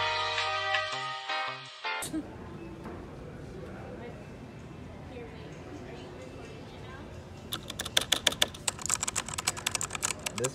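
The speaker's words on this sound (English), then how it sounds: "This one's got the old school mechanical click." Old-school mechanical computer keyboard clicking as someone types, a rapid, close run of sharp clicks in the final few seconds, after a brief burst of music and a stretch of room noise with people talking.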